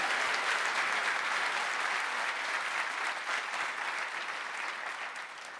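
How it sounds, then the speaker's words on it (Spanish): A church congregation claps for the Lord during a Spanish-language sermon, a thick, steady wash of applause that fills the room for over five seconds before easing off slightly. "Dale un aplauso al Señor"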